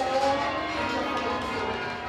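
Church bells being rung by a team of bell ringers, a steady, dense metallic ringing with overlapping tones that carries on without pause throughout.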